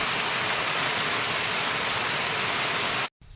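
The Sesharai waterfall pours in a steady, loud, broadband rush of falling water, unbroken and close, cutting off abruptly near the end.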